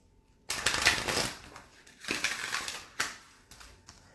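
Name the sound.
shuffling and pulling oracle cards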